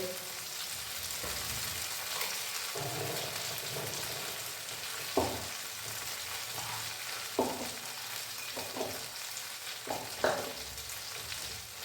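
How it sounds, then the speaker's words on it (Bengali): A pan of masala paste fries with a continuous sizzle while water is poured in, with occasional soft clinks and stirring scrapes over the steady hiss. "আমি এই মিক্সির বাটি ধোয়া জল দিয়ে দিলাম"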